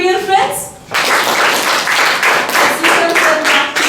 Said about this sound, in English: Now I want you to give a big clap for your friends.